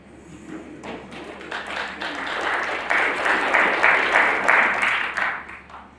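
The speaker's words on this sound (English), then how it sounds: "Muted applause." Muted applause from a snooker crowd at the 2021 Champion of Champions final, a steady patter of many hands that swells gradually and holds fairly loud before easing off at the end.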